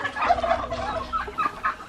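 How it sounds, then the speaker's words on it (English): Several turkeys gobbling close by on a farm, a quick burst of rattling gobbles overlapping and repeating over two seconds. "y'all can see all these beautiful turkeys"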